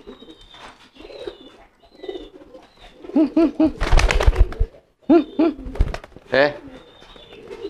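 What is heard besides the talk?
pigeons cooing during training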